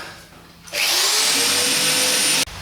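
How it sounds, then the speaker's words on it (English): Power drill boring out a rivet while working on a Holden car in a garage: a steady, loud whine starts after a short quiet moment and runs for nearly two seconds before cutting off abruptly. "drill the bottom section of that rivet and the whole thing should pop out"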